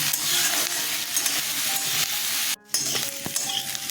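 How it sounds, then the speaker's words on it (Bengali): Sliced onions fry in a pan with a dense, continuous sizzle and occasional stirring scrapes, broken by one very brief pause midway; no voices. "দেখুন আমি এইভাবে পেঁয়াজটা ভেজে নিয়েছি"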